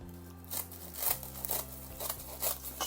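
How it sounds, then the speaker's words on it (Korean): Scissors snipping through sheets of old dried laver into long strips in a kitchen: a steady run of crisp, close cuts and papery crackles, with no talking. "쭉쭉 길다랗게 자릅니다"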